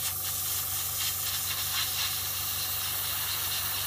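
An airbrush sprays a final protective gloss coat onto a painted scale model, giving a continuous, even hiss of fine mist that stays steady throughout.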